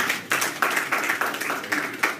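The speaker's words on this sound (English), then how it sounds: "Please, can we give him a round of applause?" An audience at a Plateau State IDP camp birthday gathering claps in a brisk, rhythmic burst of applause, close and loud, with each clap sharply distinct.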